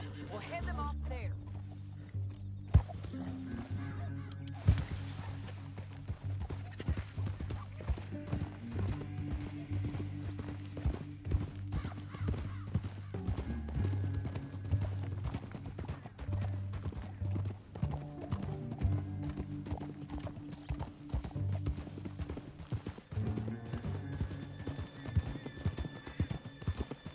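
Horse hooves clip-clop steadily through a Western video game, a continuous trotting rhythm with an occasional whinny, mixed under in-game voices and background score.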